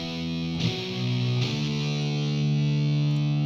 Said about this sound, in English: Power chords distortion 2.